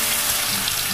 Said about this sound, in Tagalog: Ilagay na rin natin yung ating gata.